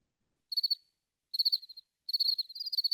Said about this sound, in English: Do I have to break out the crickets noise?